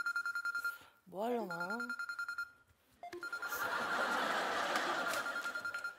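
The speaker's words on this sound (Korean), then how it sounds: "오랜만에 전화 한번 해볼까?" A phone call is placed: a steady dialing tone repeats in short beeps, broken by a brief chirpy melodic tone, then a ringback-style tone continues over a noisy background, with a voice speaking briefly.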